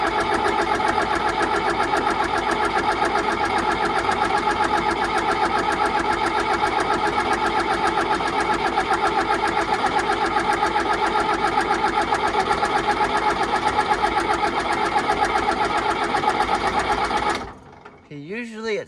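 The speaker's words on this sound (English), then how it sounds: "This is what the tractor does when you don't give it ether when it's cold. It will start, but I have to turn the throttle up" Cold tractor engine starting without ether and then running with the throttle turned up, giving a loud, steady, rapid mechanical clatter that lasts about seventeen seconds before cutting out abruptly.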